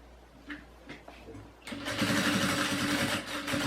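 A sewing machine stitching a pocket on a maternity bag, starting after a few soft handling taps and then running as a loud, steady, close mechanical whir with a rapid rhythmic needle chatter.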